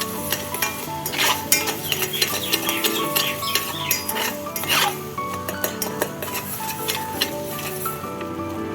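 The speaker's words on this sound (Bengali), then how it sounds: "এভাবে কিন্তু নাড়তে হবে, না হলে কিন্তু চিনিটা তলে লেগে যাবে" Melting sugar for caramel, stirred continuously in a pan, gives a soft sizzle under repeated scraping and clinking of a spoon against the metal, with irregular sharp taps.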